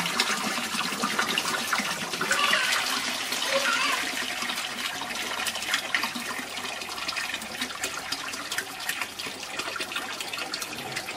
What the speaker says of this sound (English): after the flush you will have the post flush flow, which is the flow where you need to cut out the water